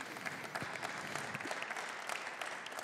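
Audience applause at a union conference, a fairly quiet but continuous patter of many hands clapping, with a few sharper individual claps standing out.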